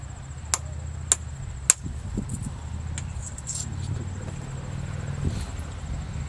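Three sharp, ringing strikes of flint being knapped with antler or copper in quick succession at an outdoor fair, followed by softer scraping and low rumbling background noise.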